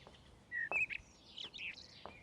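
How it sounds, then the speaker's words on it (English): Several birds chirp and whistle in short, bright calls spread across a quiet outdoor background, moderately near with small pauses between phrases. "the birds sang sweetly"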